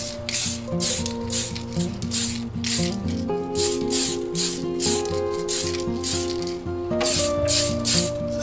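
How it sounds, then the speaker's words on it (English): Light blue spray paint hisses onto an RC Lexan car body in a rapid series of short aerosol bursts with a rattling rhythm, close and loud. "So now it's just time to go and spray on the light blue."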